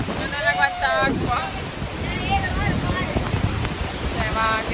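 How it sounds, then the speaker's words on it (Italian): Heavy water roars steadily close by beneath the falls at Niagara, a dense broadband rush mixed with wind buffeting the microphone, while excited voices talk over it. "siamo sotto le cascate."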